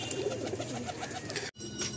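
Pigeons coo softly and repeatedly at a loft where colored birds are landing one by one, with several overlapping calls, a steady background murmur and one brief gap.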